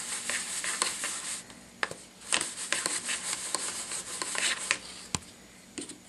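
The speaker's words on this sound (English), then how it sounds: "Rub the stamp on that side." A rubber stamp is rubbed back and forth on a damp stamp-cleaning surface, giving close, moderately loud scrubbing and rasping strokes in uneven bursts with brief pauses.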